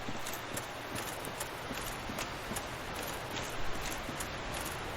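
Footsteps of a tree enemy in Dark Souls, heard as steady, evenly spaced heavy thuds about twice a second over a dense, hissy forest ambience, fairly close and moderately loud, with no talking.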